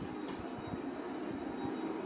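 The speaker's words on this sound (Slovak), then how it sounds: "Osobný vlak železničnej spoločnosti Slovensko zo smeru Bratislava hlavná stanica, ktorý pokračuje smer Pezinok." A passenger train on the line from Bratislava main station toward Pezinok pulls in at platform 3 of Bratislava-Vinohrady station, giving a faint, steady rolling rumble with soft rhythmic wheel clicks and no voices.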